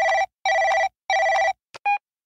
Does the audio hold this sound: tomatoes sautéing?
no